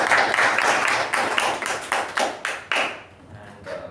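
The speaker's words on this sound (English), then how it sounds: "I think we can applaud for him one more time." A meeting audience claps together for a departing guest, a dense burst of many hands that thins toward the end, leaving a few scattered claps.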